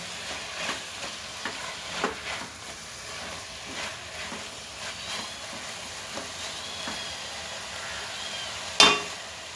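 Chicken fried rice fries in a pan with a soft continuous sizzle, broken by repeated scraping stirs and taps of a spatula, then one sharp louder clank near the end; no one speaks.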